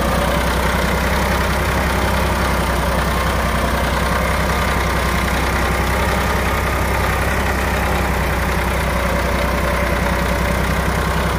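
A tractor engine works hard pulling a cultivator, a steady heavy low drone that stays loud and close and changes little throughout.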